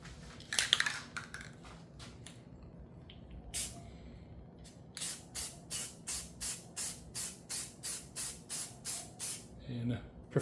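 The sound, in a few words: spray can of sandable filler primer spraying on motorcycle tank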